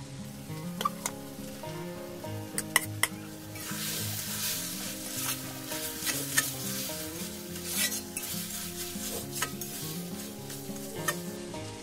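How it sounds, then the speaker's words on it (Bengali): Potato and carrot pieces fry with spices in a pan, a continuous close sizzle with occasional scraping stirs and light utensil clinks, no talking, while a tonal musical background plays underneath. "এবারে আমি আলু আর গাজরটা আবার এর সাথে একটু ভেজে নেব মশলার সাথে"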